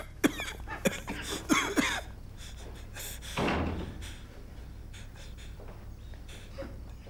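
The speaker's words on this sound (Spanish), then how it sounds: "Aram, cierra la puerta." A door is shut in an indoor home scene, giving a firm thud, surrounded by coughing, sniffing and shuffling from people in the room.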